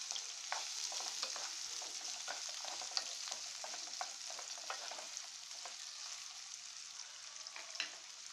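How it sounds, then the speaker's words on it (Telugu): Chopped onion and green chilli frying in hot oil in a pan, a steady soft sizzle with faint stirring clicks throughout, close and fairly quiet with no talking. "ప్యాన్లో ఆయిల్ వేసుకుని ఆయిల్ హీట్ అయిన తర్వాత మనం తరిగిన ఉల్లిపాయ పచ్చిమిర్చి ముక్కల్ని వేసుకుందాం"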